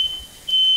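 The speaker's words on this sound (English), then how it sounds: "the smoke alarm went off" A smoke alarm set off by smoke from a steak and fish cooking on an infrared grill gives a loud, steady high-pitched beep. The tone sounds briefly, drops out for a short moment, then returns and holds to the end, with no talking.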